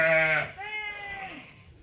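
Sheep bleat on a farm during lambing, a loud, close, wavering call followed by a second, softer bleat that trails off, with no talk over them.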